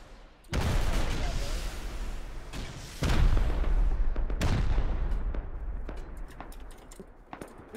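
Video game rockets and explosions boom in heavy bursts, two big blasts followed by scattered sharper cracks and distant impacts, loud and close with a fading tail.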